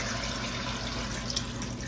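Water poured into a cooking pot for a home-cooked Sunday dinner, a steady gushing splash running continuously and close by, with no speech over it.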